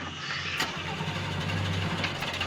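Car engine cranking and failing to start: a click, then a rough starter churn with low mechanical pulsing that keeps grinding without catching, close and moderately loud.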